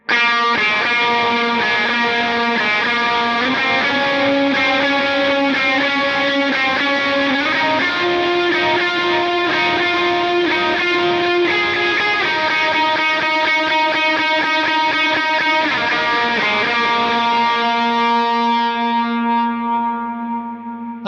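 Lead electric guitar through effects plays the Jesus Be The Name line, with sustained, singing notes carrying echo, reverb and light distortion in one continuous phrase that fades at the end.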